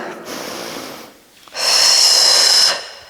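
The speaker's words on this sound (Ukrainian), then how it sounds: "І робимо вдих." A person's breathing during a morning full-body exercise routine: a short breath, a brief pause, then a longer, strong, airy inhale through the nose, close and loud with no talk over it.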